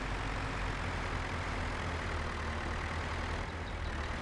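A small tractor in Farming Simulator 22 labors to pull a heavy load, its engine a constant low rumbling drone with no breaks or voices.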